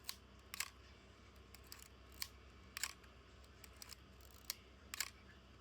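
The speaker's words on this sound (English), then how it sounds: "All of its shutter speeds work great." A series of crisp mechanical shutter clicks from an Asahi Pentax K1000 film camera, about nine in irregular succession, some paired into quick double snaps, close and clear against a faint low hum.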